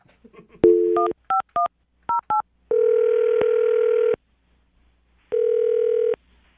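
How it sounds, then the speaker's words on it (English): A short burst of touch-tone dialing beeps, then two long electronic ring tones separated by a pause, clear and close with no voices. "I'm going to dial her phone number right now, get her on the phone"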